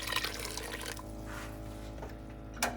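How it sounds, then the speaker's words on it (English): Cold water is poured over red peas in a kitchen as a steady, moderately loud liquid rush with a hum behind it, ending in a short splash. "pour some cold water on the red peas to sink them"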